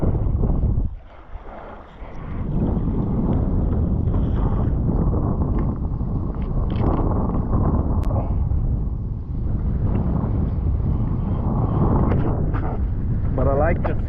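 Wind gust of 12 to 13 knots buffeting the microphone while kite hydrofoiling on water, a loud continuous roaring rush with a brief lull early, then steady blustery noise.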